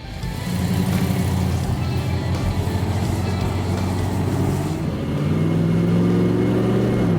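A Baldwin Motion Maco Shark Corvette engine rumbles steadily and loudly throughout, with a deep low growl that swells slightly toward the end.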